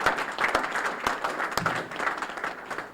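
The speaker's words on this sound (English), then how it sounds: "So let's give them a big round of applause." Audience applause at a Jefferson County Growth Association legislative forum, a steady burst of clapping from a seated crowd that holds for the full stretch and tapers slightly at the end.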